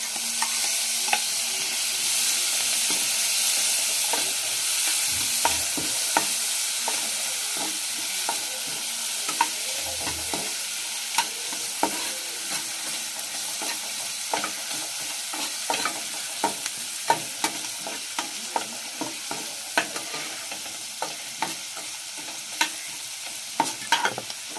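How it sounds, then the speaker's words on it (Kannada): Onions and tomato fry in a pan for a homestyle egg curry, a steady loud sizzle running throughout with frequent sharp scrapes and clinks of a spoon stirring against the pan. "ಈರುಳ್ಳಿನ ಒಂದು 30 ಸೆಕೆಂಡ್ ಫ್ರೈ ಮಾಡಿ ಸಾಕು. ತೊಗೊಂಡಿರುವಂಥ ಟೊಮೊಟೊ ಕೂಡ ಹಾಕೊಳ್ಳೋಣ."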